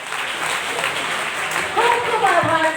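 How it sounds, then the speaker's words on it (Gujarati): An audience applauding at a school prize-giving ceremony in Mumbai, a steady wash of many hands clapping that swells toward the end, with a voice speaking over it. "એક વખત મારી માટે તાળીઓ પાડો ને બધા."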